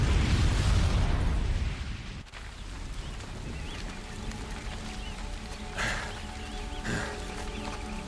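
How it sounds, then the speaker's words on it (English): In Horizon Zero Dawn, a booby-trapped bomb goes off with a loud, close, deep low-end blast in the opening two seconds. A rumbling wash of debris and scattered smaller bursts follows as the boom tails away. "the booby trap on the bomb downstairs is gonna get set off"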